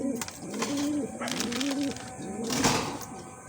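Pigeons coo repeatedly in low, rolling bursts inside a loft on a windy, rainy day, close and clear, with brief knocks and rustles between calls.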